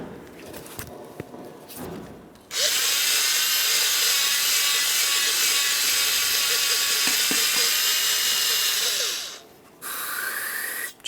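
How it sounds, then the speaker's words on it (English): Parts cleaner sprayed into the ports of a 2012-2015 Honda Civic front brake caliper bracket, with a bore brush scrubbing inside: a loud, steady hiss of aerosol spray lasting several seconds, close up, with brief scrubbing before and after. "We're going to use some parts cleaner directly inside of the ports and a bore brush to clean them out."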